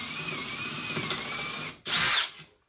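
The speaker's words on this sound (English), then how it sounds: "I just got my cordless drill" A cordless drill bores into wooden end grain for beekeeping equipment, a close, steady whirring run that stops, then a second loud, brief burst of drilling.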